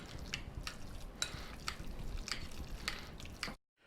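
Macaroni and cheese with parsley being stirred in a bowl, a steady wet squishing and scraping with a few sharper clinks of a utensil against the bowl, close and fairly quiet, with no talking.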